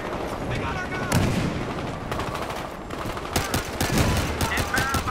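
Rapid gunfire from Battlefield Hardline heist combat crackles in bursts and single shots, loud and close, with a dense volley near the end and talk mixed in.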